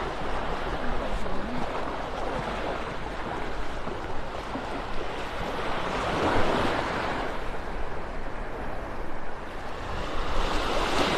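Ocean surf washes steadily onto a beach in North Naples, Florida, a continuous broad roar of breaking waves with swells rising and easing, plus some wind rumble on the microphone.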